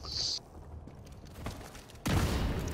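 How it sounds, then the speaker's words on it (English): An electric shotgun fires in The Division 2, a heavy blast cutting in near the end after quieter gunfire and mechanical clatter, loud and close. "He's got an electric shotgun."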